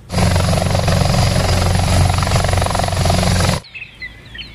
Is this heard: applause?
no